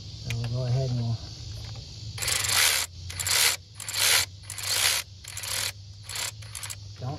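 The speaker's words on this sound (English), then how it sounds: "we're going to transfer this to the electric ratchet" An electric ratchet runs down water pump bolts on a 2007 Cadillac DTS. A voice speaks briefly, then five or six close, loud whirring bursts of about half a second each follow with short pauses between them.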